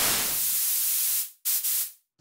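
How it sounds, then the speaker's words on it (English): Noise from an MRB Tiny Voice synth module: a bright, steady hiss that thins and fades out, then two short bursts of the same hiss, loud and close with nothing else heard. "Now, violet noise is actually brighter than white noise."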